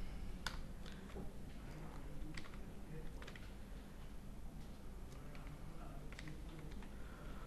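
Clicks from a computer keyboard as PL/SQL code is typed, soft scattered keystrokes at an irregular pace over a steady low background hum.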